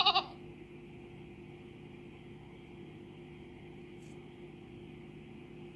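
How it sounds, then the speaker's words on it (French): A goat gives one short, clear bleat at the start, then only a steady low electrical hum continues with no further calls. "La chèvre."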